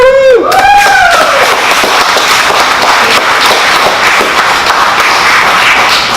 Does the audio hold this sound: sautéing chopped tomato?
no